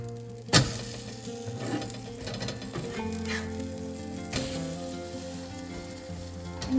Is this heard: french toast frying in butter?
yes